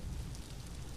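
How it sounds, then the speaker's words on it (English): Rain in the video game Vintage Story gives a brief, soft, steady hiss of falling water, fairly quiet and with no voices. "Again, we can hear the rain"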